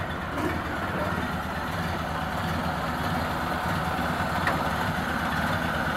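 A 1931 Ford Model A sport coupe engine idles smoothly and steadily close by, a low even rumble with no voices over it.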